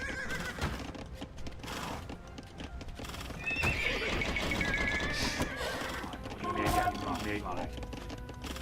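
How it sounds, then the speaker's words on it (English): Horses in the Age of Empires 2 strategy game clip-clop and whinny loudly, with a neigh rising above steady hoofbeats and battle noise, under a player's talk. "My horse is just dying."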